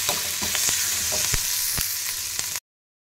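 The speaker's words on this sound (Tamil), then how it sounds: "பாதி தக்காளி போட்டு நல்லா வதக்கணும்" Onion and tomato sautéing in a pan with green chilli, garlic and ginger: a steady close sizzle with several scraping stirs and spatula taps, stopping abruptly before the end.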